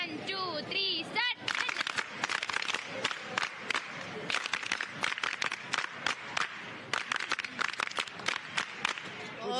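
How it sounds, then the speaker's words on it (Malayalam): NSS volunteers at the Kerala School Kalolsavam give a rhythmic group clap, crisp bursts of many hands repeating steadily after a brief moment of talk at the start. "NSS clap. 1 2 3 സ്റ്റാർട്ട്."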